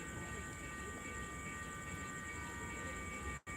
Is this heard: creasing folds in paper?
no